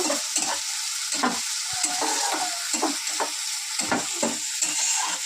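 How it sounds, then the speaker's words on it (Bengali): Chopped onions frying in oil in a nonstick kadai, crackling and sizzling up close while a spatula scrapes and stirs in uneven strokes, fairly loud with no voices. "পেঁয়াজ কুচিয়ে দেবো, কুচিটা দিয়ে দেবো। সুন্দর করে কিন্তু ভেজে নেব।"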